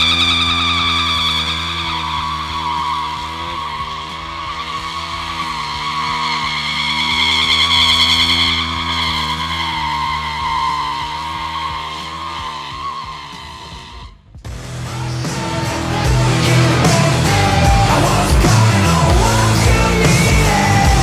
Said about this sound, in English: I see you make a perfect donut.